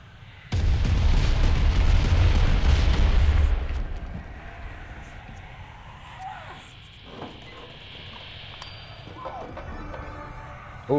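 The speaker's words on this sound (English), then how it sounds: "God damn it, grenades again." A heavy grenade blast in a Cuisine Royale match: a loud, deep booming roar that rumbles for about three seconds, then fades into a quieter background of faint scattered game sounds.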